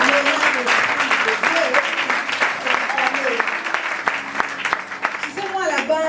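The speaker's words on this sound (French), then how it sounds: "Oui, on acclame." A congregation at a Sunday church service claps steadily and loudly throughout, with a voice speaking over the dense applause.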